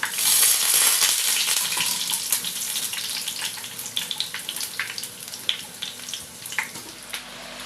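Prawn pakoras frying in hot oil: a loud, dense sizzle that thins into sharper, scattered crackles and pops as the fritters are lifted out to drain.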